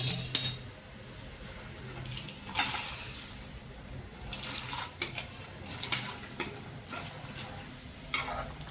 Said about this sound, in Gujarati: ઉકળી ગયું છે. તેમાં હવે પપૈયાના કટકા નાખી દઈશું.